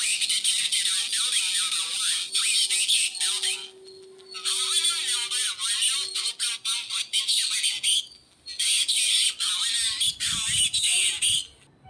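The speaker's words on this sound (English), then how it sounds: "When I create an impact, it will give me sound alert" Earthquake detector alarm on an IoT vibration-sensor board, triggered by an impact on a model building: a loud, continuous chirping electronic alert that cuts out briefly twice, with a low thump near the end.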